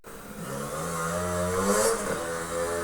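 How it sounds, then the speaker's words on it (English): A motorbike passes fairly close, its engine note rising and swelling steadily for a few seconds at moderate loudness, with no voices over it. "when that motorbike passes, we continue"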